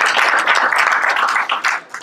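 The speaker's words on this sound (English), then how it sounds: "Please give me a hand of applause." An audience claps at an exhibition event in Germany, a dense, loud patter of many hands that stays full and even before thinning slightly at the end.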